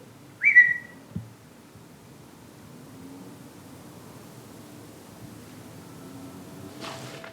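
A person whistles one short, clear, fairly close note at the start, followed by quiet outdoor background hiss and a faint distant rushing noise.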